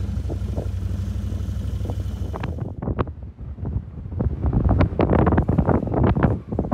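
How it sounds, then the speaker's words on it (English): Steady low wind rumble buffets the microphone outdoors in Alaska, followed by gusty bursts and scattered knocks as the blowing picks up, loud and close. "It's a little windy."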